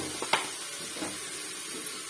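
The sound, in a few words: masala frying in a pan on low gas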